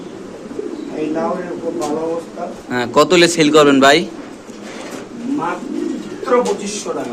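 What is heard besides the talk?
pigeons cooing at a pigeon farm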